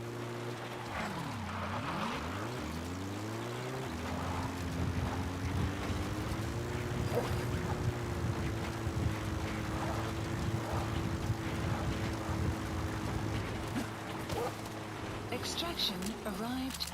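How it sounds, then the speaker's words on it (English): Helicopter in the video game Metal Gear Solid V arriving for an extraction, a steady rotor and engine drone that sweeps in pitch as it approaches and holds close and loud for most of the stretch, with game speech over it. "Alright, now time to call the helicopter."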